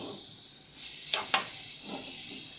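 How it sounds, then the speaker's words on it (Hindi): Cauliflower tipped into spiced masala in a pan gives a soft steady hiss of frying, with a brief rustle and a sharp tap as it is stirred in. "अब हम इसमें डाल देंगे गोभी, इसको कर लेंगे अच्छे से मिक्स"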